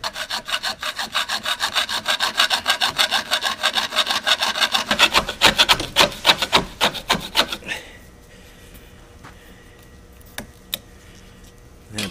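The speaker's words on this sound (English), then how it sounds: "one of these back saws." A back saw cuts through a brass baritone horn tube in steady, rapid back-and-forth strokes for about eight seconds, then stops, leaving near silence broken by a couple of faint ticks.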